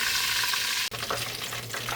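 Chicken and pork chops fry in hot oil with a steady, loud hiss and crackle, briefly interrupted before the sizzling resumes with faint clinks of stirring.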